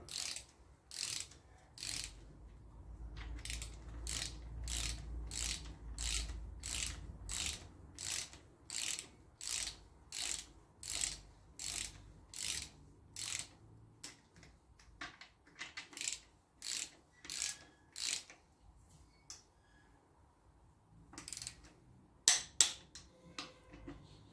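A ratchet and socket tighten bolts on a Land Rover Series engine during new piston fitting, giving steady rapid bursts of close metallic clicking, about twenty runs of ratcheting with short pauses and a few sharper knocks near the end.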